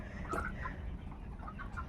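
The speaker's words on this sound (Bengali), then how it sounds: "মুরগির ফার্ম থেকে মুরগি নিয়ে যাচ্ছে" Chickens taken from a poultry farm give a few faint, scattered clucks at close range over a low background rumble.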